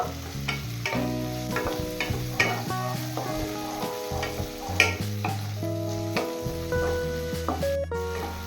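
Chopped onions, tomato and green chili sizzle and get stirred in a pan for a dhaba-style egg tadka, a steady frying crackle with scraping strokes under background music.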